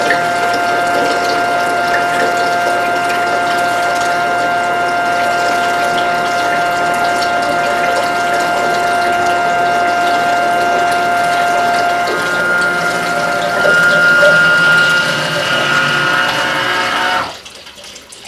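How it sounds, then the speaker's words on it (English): A LOTUS water treatment system pumps water out of its processing carafe, a loud, steady mechanical whine with sustained tonal hum that rises slightly near the end, then cuts off abruptly as the unit shuts itself off. "once it detects that the water is all drained out of this processing carafe, it will actually shut itself off"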